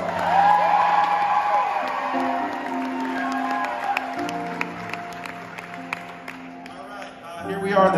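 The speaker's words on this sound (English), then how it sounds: "Give him a round of applause." Theater audience at a concert in the Lyric Theater, Birmingham, Alabama, applauding and whooping for the keyboard player, a dense steady crowd roar with cheers over sustained keyboard notes, tapering slightly toward the end.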